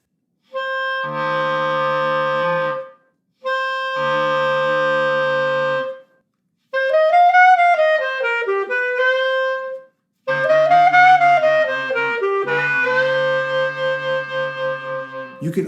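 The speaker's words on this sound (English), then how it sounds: "We growl by simply blowing air through the clarinet and making a growling sound with our throat." Clarinet growl, made by blowing air while growling with the throat, heard as several separate rough, buzzy held tones with wavering pitch. Some phrases may be throat growls without the instrument, loud and close.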